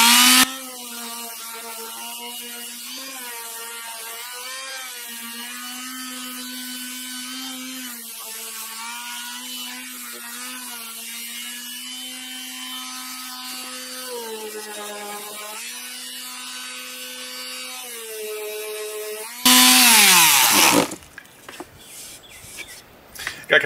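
A power sander fitted with finer-grit paper works over scrap plywood edges, its motor whining steadily with shifting pitch as pressure changes, then a brief loud burst before it winds down.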